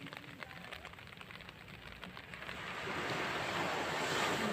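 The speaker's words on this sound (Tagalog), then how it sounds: "Ito yung alon." Ocean surf at Repulse Bay Beach, Hong Kong, on a rainy day washes steadily, the rushing hiss building louder toward the end as a wave breaks closer, with some wind noise and no voices.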